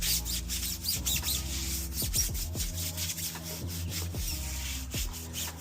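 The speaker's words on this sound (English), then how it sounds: "So since we sprayed this first, we're going to give it a quick scrub." A tire brush scrubs a sprayed car tire in quick, uneven back-and-forth strokes, a close bristly rubbing with short scraping bursts and no talk.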